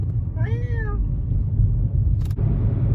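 A single clear meow from a cat nearby, over a steady low rumble of traffic, followed later by a brief sharp click.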